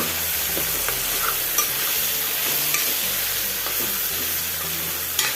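Spices with curry leaves, garam masala and chilli powder are stirred in a pan for a Kerala-style mixed vegetable curry, giving a steady close sizzle with soft scraping strokes and a low repeating hum, and no voices.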